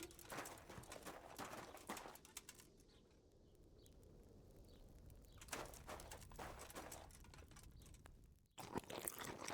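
Horse hooves clip-clop in the medieval video game Kingdom Come: Deliverance, coming in irregular bursts of hoofbeats at moderate loudness, with a quieter stretch in the middle and faint bird chirps around them.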